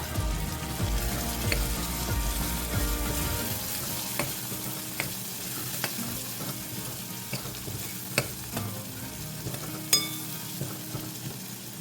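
Spices and mutton masala are stirred in a sizzling pan for an Agri Koli kaleji masala, with a continuous close fry and scattered spoon taps against the pan.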